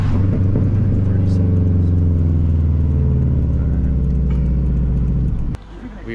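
A Stage 3+ tuned Subaru WRX engine with loud upgraded exhaust drones and revs steadily under tuning, heavy and close, then the engine cuts off abruptly near the end, leaving a quieter rumble.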